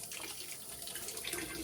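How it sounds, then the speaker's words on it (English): Fresh water rushes steadily through the hose of a Rheem tankless water heater during annual maintenance, a constant close hiss of flow with no voices. "once I open this, fresh water is gonna run through the system"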